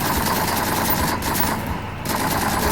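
Loud, steady automatic gunfire in Call of Duty Modern Warfare 3, a rapid string of close shots over a rumbling engine-like drone, with no voices.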